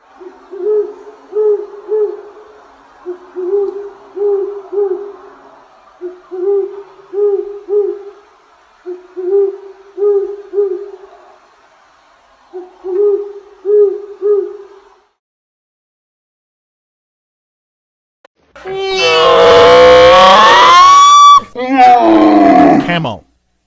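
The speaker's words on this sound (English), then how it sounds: "Owl." An owl hooting in a steady repeated pattern of soft, low hoots, clear and close with no other noise, followed by a loud, long, groaning animal call.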